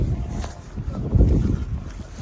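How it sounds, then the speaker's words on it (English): Strong snowstorm wind buffets the microphone outdoors near a school, a loud, low, gusting rumble throughout. "It's really windy, you know, the storm."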